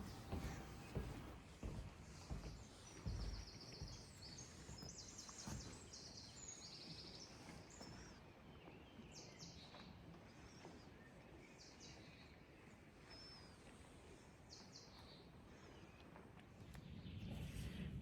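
Faint high chirps and twittering birdsong at 7 a.m. in North Macedonia come and go over a steady rustling background of footsteps and ambient noise.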